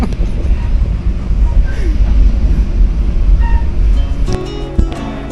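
Train wheels rumble and rattle over the rails in a loud, continuous drone, with clanks and squeaks near the end, heard from aboard a passenger train in Indonesia.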